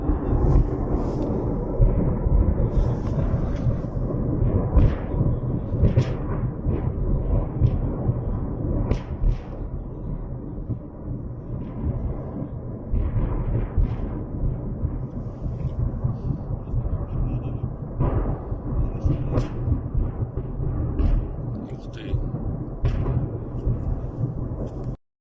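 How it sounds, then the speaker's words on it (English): Deep rumbling booms roll on continuously, with repeated sharper blasts breaking through, as secondary explosions go off one after another at a burning railway ammunition depot in Russia's Voronezh region. "we could definitely hear a lot of those secondary explosions going off"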